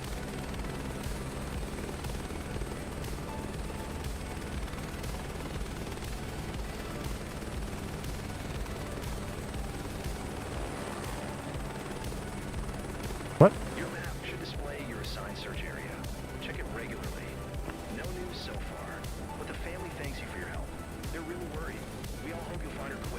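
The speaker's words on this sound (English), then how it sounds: "We're just gonna get this bird in the air." A helicopter in Microsoft Flight Simulator 2024 drones with a steady rotor hum under continuous talking, broken by one sharp click partway through, as it lifts into the air.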